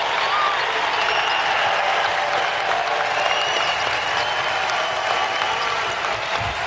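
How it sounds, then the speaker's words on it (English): Loud, continuous crowd cheering and applause in a college men's basketball arena during a Wright State game against Milwaukee, filling the whole stretch as a steady roar with faint commentary underneath. "But Tanner Holden trying to get the crowd loud, and they are responding."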